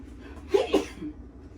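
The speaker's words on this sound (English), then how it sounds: "I had to step away. I had to sneeze." A single short sneeze, close and abrupt, with a quick two-part burst and little else around it.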